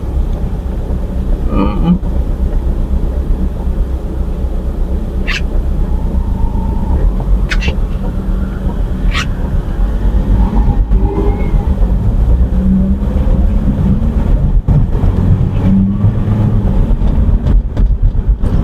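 Steady road and engine drone inside a CNG-powered Honda Civic holding constant speed on a highway, a continuous low rumble with a few faint clicks, and no talking.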